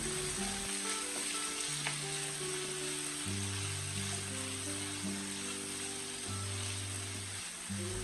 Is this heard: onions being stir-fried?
yes